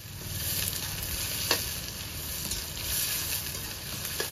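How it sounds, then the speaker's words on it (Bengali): Sliced onions fry in hot oil for beresta, a soft steady sizzle up close, broken by a few clinks and scrapes of a stirring spoon, with no one talking. "পেঁয়াজ দিয়েছি বেরেস্তা করার জন্য"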